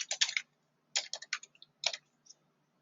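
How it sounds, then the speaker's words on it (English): Keys tapped on a computer keyboard while entering a password, short clustered clicks in three quick bursts with pauses between, close but soft in a quiet room. "So then here you type in the password."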